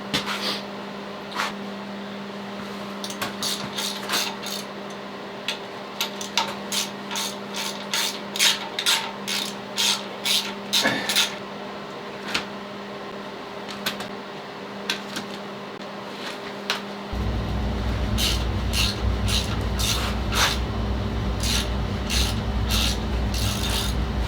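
A hand ratchet works half-inch oil pan bolts loose on a Willys Jeep CJ5, with rapid, close clicking runs in repeated bursts over a steady hum that grows louder partway through.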